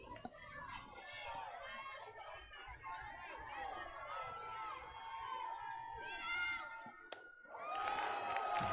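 Spectators at the 5A high school softball championship between Springville and Spanish Fork chatter and shout throughout, and a louder burst of cheering comes near the end.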